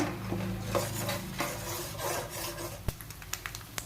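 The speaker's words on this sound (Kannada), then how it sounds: "ಈಗ ಕಡಲೆಕಾಯಿ ಬೀಜ ಹಾಕೋಣ" Peanuts going into a pan for mung dal upma: steady rasping scrapes give way to a quick run of sharp clicks and taps near the end, close and moderately quiet, with no talking.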